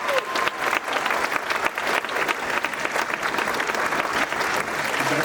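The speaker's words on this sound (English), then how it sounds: "can we give a huge round of applause for all top 5 contestants?" Loud, dense applause from a large audience at a live competition show, steady clapping with scattered cheers filling the whole stretch without letup.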